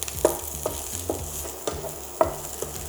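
Small shallots brown in a pan for chicken escalopes with chorizo sauce, a soft sizzle punctuated by regular spatula scrapes and taps, roughly every half second, close and clear.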